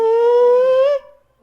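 A voice imitates whale song with one long, sustained, slightly rising moan that fades out after about a second, close and loud.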